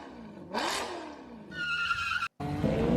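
Race cars, a modified Porsche 935 and a Ferrari 308, rev and whine down a divided straight, with rising engine tones and squealing bursts that cut off briefly near the end.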